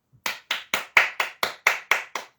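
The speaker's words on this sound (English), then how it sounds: "I just clapped, like I really clapped" One person claps close to the microphone, about nine sharp, evenly spaced hand claps in a steady rhythm against a quiet background.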